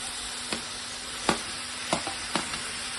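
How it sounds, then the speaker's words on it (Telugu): Tomatoes added to a pan for ridge gourd chutney sizzle steadily, with a few sharp scraping strokes as they are stirred, close and even, with no speech. "ఇప్పుడు దానిలో టమాటాలు వేద్దాము"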